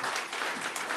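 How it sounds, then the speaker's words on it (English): Applause from an audience at a robotics event, a steady broadband patter of clapping filling the whole second with no voices over it. "Big applause again."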